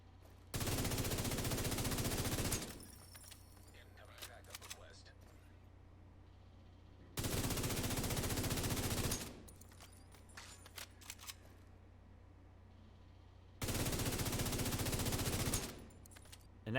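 Three long sustained bursts of FAMAS assault rifle fire from The Division 2, each about two seconds of loud rapid automatic shots, separated by quieter gaps with faint game ambience.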